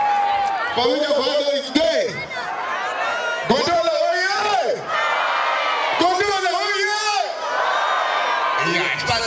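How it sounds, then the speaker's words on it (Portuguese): Carnival crowd at a 2022 Gondola show whooping and cheering in repeated loud bursts, with shouts and yells rising over someone speaking through a microphone. "Uma salva de palmas para o jovem Cipriano."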